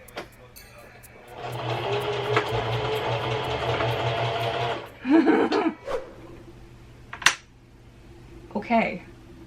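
A sewing machine runs in a steady rapid burst for a few seconds, then stops, followed by a woman's gasps, sighs and muttering nearby.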